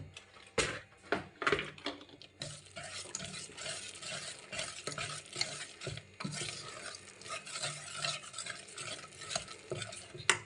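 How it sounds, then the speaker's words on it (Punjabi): A spoon stirs thick cauliflower chilla batter in a bowl with soft, repeated scraping and slapping strokes, close and fairly quiet, with no talking. "ਚਲੋ ਜੀ ਹੁਣ ਆਪਾਂ ਸਾਰੀਆਂ ਚੀਜ਼ਾਂ ਨੂੰ ਮਿਕਸ ਕਰਦੇ ਹਾਂ"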